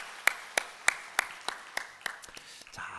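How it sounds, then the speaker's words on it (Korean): Church congregation clapping to welcome young children at a Sunday service, heard as a slow series of about nine distinct, fairly quiet claps fading toward the end. "함께 환영하며 크게 한번 박수하겠습니다"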